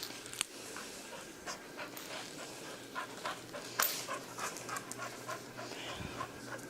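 Two dogs panting heavily and rhythmically close by, the breathing steady and continuous with occasional brief whines or yips mixed in.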